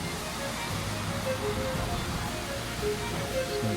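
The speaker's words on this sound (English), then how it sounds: "You hear the rustling waters of this river and waterfall." Rushing river and waterfall water just above a bay anchorage in Scotland's Inner Hebrides, a steady, full broadband roar that stays constant and fairly close throughout, with no other sounds standing out.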